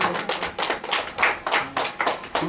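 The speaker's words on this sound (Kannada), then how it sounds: "ಬನ್ನಿ ಹುಡುಗನಿಗೆ ಸಾಲಿಗೆ ಜೋರಾದ ಚಪ್ಪಾಳೆ" An audience claps for a boy in quick, bursty rounds of applause, loud and close, with no talking over it.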